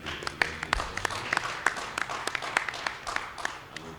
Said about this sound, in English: I want also to let us clap for our marketing, the MTN marketing